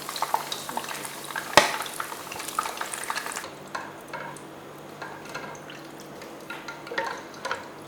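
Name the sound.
frying beef and goat meat in oil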